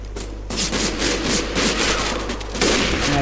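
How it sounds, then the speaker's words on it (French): Rapid bursts of automatic gunfire in the video game CS:GO, dense crackling volleys continuing throughout at moderate loudness, with a brief pause before the first burst. "lui là-bas il rafale les tirs"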